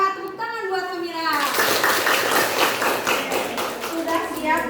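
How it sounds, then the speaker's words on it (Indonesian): Classroom of children clapping for a student named Hamira after she answers, a dense burst of many small hands lasting a few seconds, with a teacher's voice and children's talk around it. "tepuk tangan buat Hamira"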